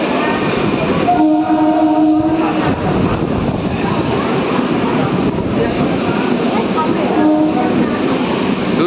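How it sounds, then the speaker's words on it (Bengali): A Kolkata Metro train runs past the platform at New Garia, its steady roar loud and continuous throughout, with horn-like tones sounding twice above the rumble. "আমি এখন নিউ গড়িয়া থেকে এই যে ট্রেন দেখতেছি"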